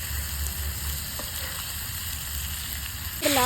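Fish frying in coconut oil on a flat tawa, giving a steady, close, dense sizzle that swells into a louder crackling burst near the end, with no talking.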